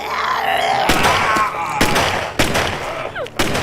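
Several sharp gunshots crack out at irregular intervals, loud and close, in an action movie shootout, layered over a dense dramatic soundtrack.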